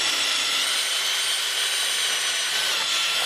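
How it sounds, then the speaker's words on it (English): A power drill bores screw holes into timber for feather-edge fencing, giving a steady, loud, unbroken whirring grind for the whole stretch, with no talking. "drill in here as well and put 2 more holes so we can put some screws through without splitting the timber"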